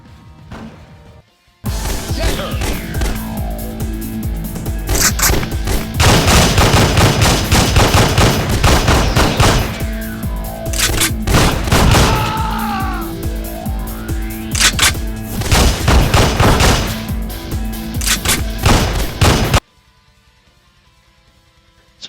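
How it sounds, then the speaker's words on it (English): Rapid bursts of machine gun and shotgun fire from a two-player PlayStation 2 light gun game, loud and dense for most of the stretch with crashes and impacts layered in, then cutting to near quiet. "you can change from machine gun, shotgun to a crane gun"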